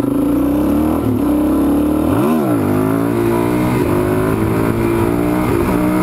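Motorcycle engine roaring loud and close during a wheelie, pitch rising and falling through a quick rev around the middle, then holding a steady droning tone under constant wind noise, with no talking.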